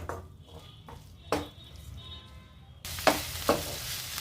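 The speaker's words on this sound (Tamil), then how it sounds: "இது எல்லாத்தையும் ஒன்று சேர்த்து நல்லா கலந்து விட்டுக்கலாம்" A spoon scrapes and clinks in a pan, stirring Schezwan sauce and soy sauce for fried rice. The strokes come in a few distinct sharp knocks, then a louder sizzle of frying joins in.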